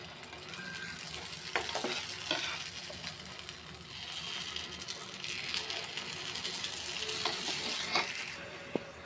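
Savoury paniyaram batter with egg cooking in the wells of a paniyaram pan, a soft continuous sizzle with scattered light clicks and taps of a utensil, close and fairly quiet with no talking.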